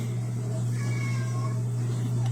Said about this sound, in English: I'm in here cooking, so my cat thinks I gotta bug mommy